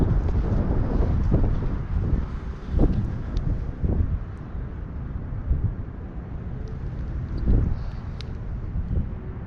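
Strong wind buffets the microphone outdoors on a desert golf course, a loud continuous rumble with repeated gusty thumps and swells and no voices over it.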